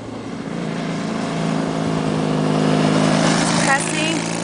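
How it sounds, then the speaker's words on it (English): A motorcycle engine hums and swells as it draws closer, its tone rising and growing louder toward the end, with a voice speaking over it. "Can you hear the sound of motorcycle?"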